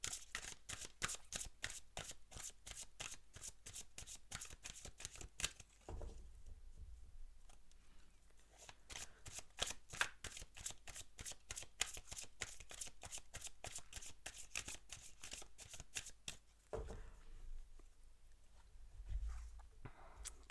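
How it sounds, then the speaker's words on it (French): Oracle cards being shuffled, a rapid run of crisp riffling flicks that pauses briefly twice before resuming, close and steady with no talking. "je reprends les cartes de lumière"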